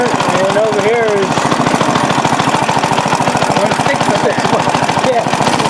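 A restored rare Briggs NR6 engine runs close up at low speed with a rapid, even chugging pulse, and a voice talks over it.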